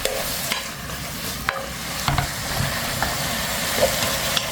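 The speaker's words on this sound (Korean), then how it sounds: "간이 배도록 조금 더 볶아요." Mung bean sprouts stir-fry in a hot pan with oyster sauce, chicken stock and a splash of rice wine, giving a loud, continuous sizzle broken by close, repeated tossing and scraping, with no talk.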